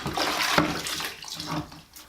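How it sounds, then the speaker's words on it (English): Cloth diapers plunged in a bucket of soaking water give a few quiet, uneven sloshing and splashing surges, close by and alone. "I'm just gonna plunge this a few times and then toss out the water"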